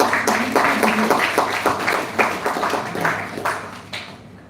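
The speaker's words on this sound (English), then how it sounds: "Let's have a round of applause." At a signing ceremony for a memorandum of understanding, an audience breaks into a short round of applause, scattered claps close and steady before thinning out toward the end.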